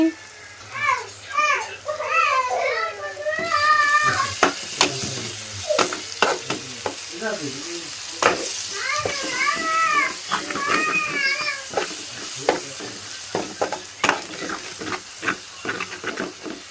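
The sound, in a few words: eggs frying and being stirred in oil in a pan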